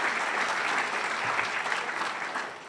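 Sustained applause from a large audience at Portland State University's 2015 convocation, a dense steady clatter of clapping that stays loud throughout and tapers slightly at the end.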